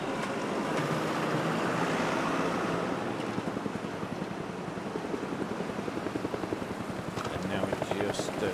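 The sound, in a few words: helicopter flying overhead in Zwift cycling video game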